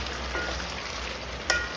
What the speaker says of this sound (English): This is frying very nicely.